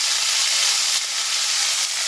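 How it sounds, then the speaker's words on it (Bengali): Vegetables fry in hot oil in a home kitchen, giving a loud, continuous bright sizzle with a steady hiss that barely wavers across the short stretch and no talking. "তো এই একটা ভাজা শুধু এখানে তেলের মধ্যে দিয়ে দিচ্ছি আজকে"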